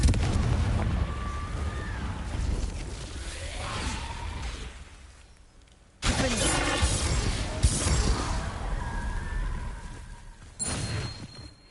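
Confringo explosion spells in Hogwarts Legacy, booming blasts and crashing impacts layered with whooshes and game effects, loud and dense, with a sharp new burst near the middle and another near the end.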